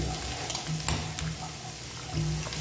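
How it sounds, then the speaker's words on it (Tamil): Water going into a pot of camel meat curry, with a low bubbling, sizzling wash and a few clinks of a utensil, moderately close and fairly quiet, no voices. "தண்ணி ஊற்றிக்கிறோம் தண்ணி ஊற்றிக்கிறேன் நிறைய ஊற்றியாச்சு"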